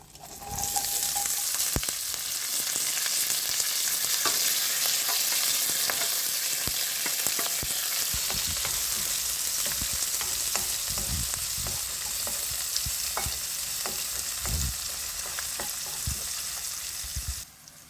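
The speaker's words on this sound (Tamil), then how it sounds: "இதில் சின்ன வெங்காயம், பூண்டு, இஞ்சி, கருவேப்பிலை, காஞ்ச மிளகா இதெல்லாம் இப்போ சேர்த்துக்கலாம்." Small shallots, garlic, ginger, curry leaves and dried red chillies frying in hot oil, a loud dense crackling sizzle that holds steady throughout with occasional stirring knocks against the pan, close up and without speech.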